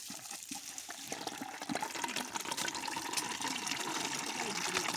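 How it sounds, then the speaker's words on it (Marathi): Water runs from a pipe into a bucket, a continuous close gushing trickle that grows fuller and louder partway through. "इथनं पाईपीनं पाणी भरायचं बघा किती ते."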